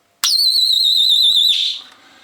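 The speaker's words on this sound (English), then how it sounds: "Yeah, this is the alarm." A mains-powered homemade Arduino burglar alarm lets out a single loud, warbling electronic siren tone for over a second, then cuts off abruptly, leaving a faint hum.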